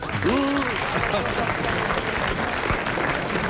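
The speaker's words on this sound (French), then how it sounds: "nous applaudissons Madame Tolson de Calais" Studio audience applause on a French radio comedy panel show, a steady bed of clapping running throughout while a voice rises briefly at the start and people talk over it.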